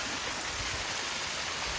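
A waterfall in Alabama's Sipsey Wilderness pours with a constant broad hiss and rush, steady and fairly soft, with no voices over it.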